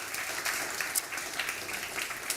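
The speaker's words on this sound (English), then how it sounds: "Another round of applause for her" A morning event audience applauds a young talent from Ghana with a soft, even patter of clapping heard at a distance, steady throughout.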